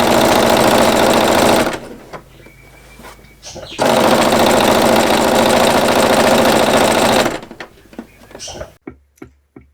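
A sewing machine stitches scrap fabric pieces together along a quarter-inch seam. It runs in two loud, fast, rhythmic bursts with a short pause between them, then a few separate clicks follow at the end.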